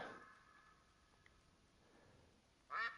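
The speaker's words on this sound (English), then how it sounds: "Well, maybe it's just a duck." A lone duck quacks once, brief and moderately distant, in the hunting game theHunter: Call of the Wild, against a faint, quiet outdoor ambience.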